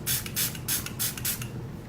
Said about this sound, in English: I'm just going to spray one more time with this